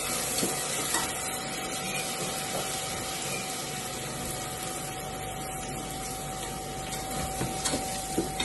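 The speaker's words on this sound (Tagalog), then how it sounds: "Ang bigas, i-fry." Uncooked rice fries in a pan with a continuous close sizzle and light scraping of stirring, steady throughout with no talking.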